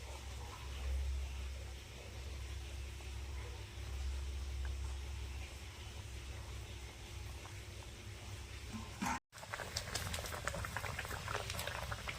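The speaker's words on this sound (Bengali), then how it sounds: "ঝোলটা ফুটে গেছে" Curry gravy for an egg curry bubbling steadily in a pot, a dense continuous boiling hiss and patter heard up close, with a brief dropout near the end before the bubbling resumes.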